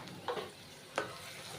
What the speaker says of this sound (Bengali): তো আমি এটা ভালো করে একটু কষিয়ে নেব।